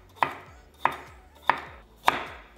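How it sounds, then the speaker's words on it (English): A peeled carrot is roughly chopped with a knife on a cutting board, four sharp, evenly spaced chops in slow succession, close and clear with no talking. "I already peeled the carrot, so again, just rough chop."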